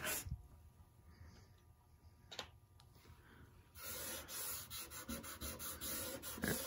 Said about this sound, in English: Start rubbing across.